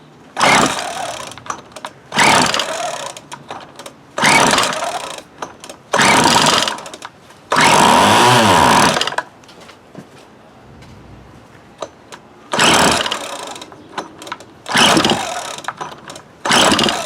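A 1996 Craftsman gas string trimmer with a poorly tuned carburetor is pull-started again and again, its small two-stroke engine catching in loud, rough bursts of a second or so between quieter gaps, with one longer rev near the middle.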